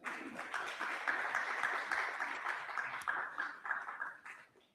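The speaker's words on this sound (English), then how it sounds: "Please give yourselves a round of applause" Audience applause at a morning tech and innovation launch event, a fairly faint, distant wash of many hands clapping that runs steadily and fades out at the close.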